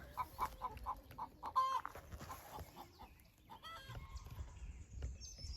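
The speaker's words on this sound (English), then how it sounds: "Here we have the chickens in their natural habitat, hunting amongst the jungle of grass for bugs" Free-ranging chickens cluck repeatedly in short rhythmic bursts while foraging in long grass, with a few sharper squawks, fairly close and steady throughout.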